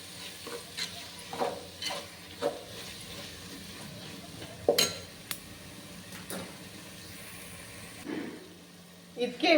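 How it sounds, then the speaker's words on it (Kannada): Tomatoes fry in a pan for mutton biryani, giving a soft steady sizzle broken by scraping stirs and occasional clinks of a metal spoon against the pan, with a voice speaking at times. "ಇವಾಗ ಇದು ಟೊಮೆಟೊ ನೀಟಾಗಿ ಫ್ರೈ ಆಗಲಿ."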